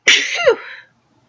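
A single huge sneeze, loud and close, bursting out sharply with a brief breathy tail, then silence.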